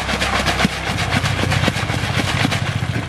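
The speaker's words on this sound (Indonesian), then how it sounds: "Dibilas mesin cuci ini." A washing machine rinses banyan (beringin) seeds meant for bonsai, giving off a loud, steady, close churning motor rumble with irregular low knocks, and no talking.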